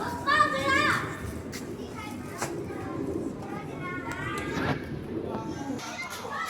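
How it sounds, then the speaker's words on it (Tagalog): Children play and chatter outdoors in a busy spot in China, their high voices overlapping steadily at moderate distance amid general outdoor bustle, with occasional bird calls. "Marami sila naglalaro dito."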